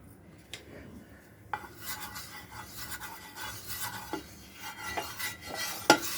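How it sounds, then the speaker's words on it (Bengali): A spoon stirs pumpkin peel in a little oil in a pan over a gas flame, making soft, quiet scraping and rubbing sounds with a few light clinks against the pan. "এটা ভালো করে মিক্স করে দেবো।"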